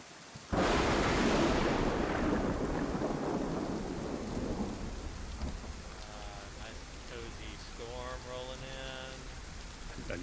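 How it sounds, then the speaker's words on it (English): A heavy downpour with thunder in DayZ on the Chernarus coast: a loud rumbling thunder crash opens and slowly fades into steady pouring rain, with a voice talking over it toward the end. "it's pouring down with rain, your visibility is reduced dramatically"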